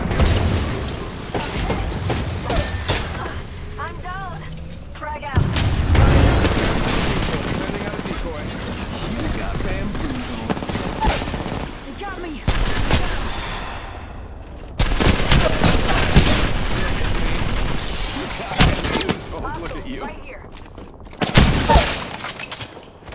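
Chaotic Apex Legends battle-royale firefight with a frag grenade thrown: dense bursts of gunfire and booms layered under the game's voice callouts, loud and sustained with brief lulls.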